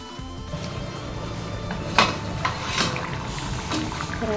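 A pot of Chettinad chicken curry simmers with a low, steady bubbling, broken by a few sharp clinks of utensils against metal.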